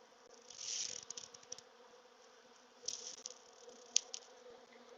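Honey bees buzzing around an opened hive during an autumn inspection, a faint steady drone with a few closer passes swelling briefly louder.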